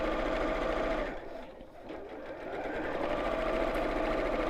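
A sewing machine runs continuously as it stitches around both lines of a seam, close and steady. It briefly dips in loudness partway through, then returns to its even whir.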